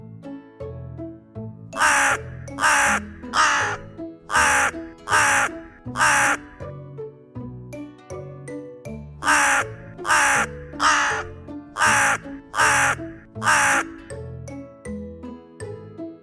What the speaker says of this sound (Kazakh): Қарға кар, кар дейді.